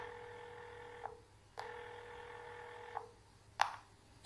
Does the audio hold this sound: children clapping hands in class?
no